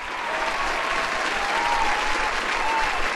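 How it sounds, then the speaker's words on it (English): A steady round of applause from a crowd, dense and even clapping holding at a constant level with no break, alone and fairly close. "Round of applause."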